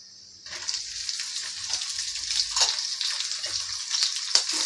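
Green chillies frying in hot oil in a home kitchen pan, a steady bright sizzle starting abruptly after a brief quiet moment and holding loud and close throughout, with faint low stirring bumps beneath.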